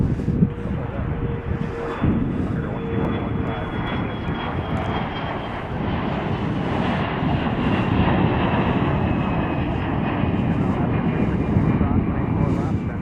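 An airliner on short final approach into Chicago O'Hare roars steadily and close by for the whole stretch, a broad rumbling engine noise that swells slightly toward the end, with a voice talking faintly underneath.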